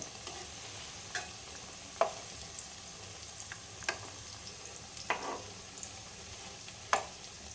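Fig fritters fry quietly in hot oil, a soft steady sizzle broken by a handful of sharp scrapes and taps as a utensil stirs and nudges them around the pan; no one speaks.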